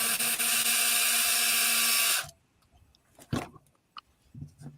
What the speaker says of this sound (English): And I just start a hole with a drill.